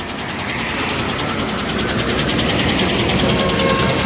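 A vehicle engine runs steadily as the driver gets ready to set off on a long road trip from Chennai to Pamba, a loud continuous rumble with a faint rhythmic pulse and no voices.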